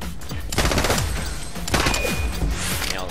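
Rapid bursts of gunfire ring out in the video game The Club: loud, close, repeated volleys of shots in quick succession.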